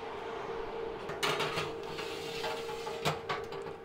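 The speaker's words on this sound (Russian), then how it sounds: "Открываем дверь и ставим противень, в который мы уложили 10 яиц." The door of a preheated MIWE gusto:snack oven opens and a perforated tray holding ten eggs slides in: sharp mechanical clicks and scraping metal over a steady fan hum.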